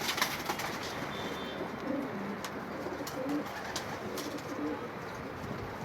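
Homing pigeons at a breeder's loft, soft low cooing repeated in short phrases over a steady bed of rustling and wing movement, with occasional sharp taps nearby.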